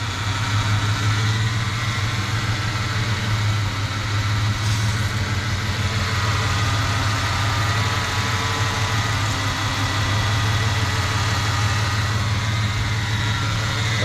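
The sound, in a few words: Ford Mustang 3.8L engine idling rough, misfiring when hot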